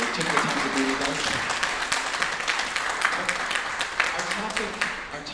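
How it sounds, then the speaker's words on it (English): An audience at a small business resiliency symposium in Los Angeles applauds a panel, sustained dense clapping from a roomful of people that holds steady for several seconds, with some voices mixed in. "Give them a round of applause"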